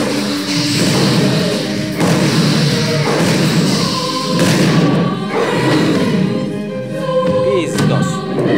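In the horror video game Obscure 2, a grenade explodes with several heavy, booming thuds over a loud, dense game soundscape.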